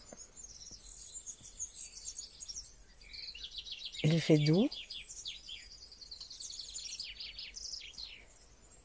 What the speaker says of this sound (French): moi je suis aujourd'hui dans un endroit calme avec des oiseaux